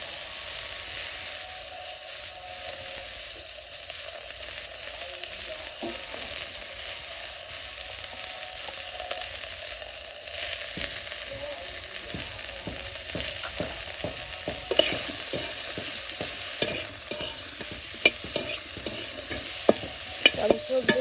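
Eggplant and potato being stirred and sautéed with salt, turmeric and chili in a pan in a village kitchen, a steady soft sizzle with repeated scraping and stirring strokes, close and alone without talk.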